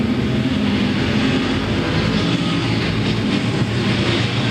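Race cars in a short-track division at Louisville Speedway's Derby City track roaring through turns 1 and 2, a steady, dense, loud engine drone that holds without a break from start to finish, with no voices.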